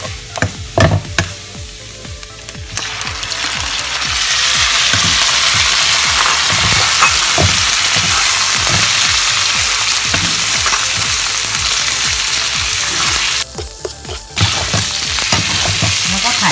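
Pork stir-fried with ginger in a pan in a home kitchen, starting with spatula clatter and stirring, then a loud, steady sizzle as the pork goes in, with intermittent scraping strokes.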